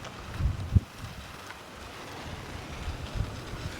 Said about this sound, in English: You can probably hear the wind. It's pretty windy.